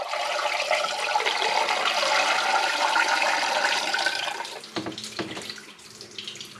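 Water pours from a small jug through a funnel into a coolant passage on a GM 3400 V6 engine block, a steady splashing gush that cuts off abruptly, followed by a few faint drips and trickles.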